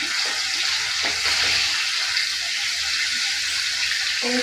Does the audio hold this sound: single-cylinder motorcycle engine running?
no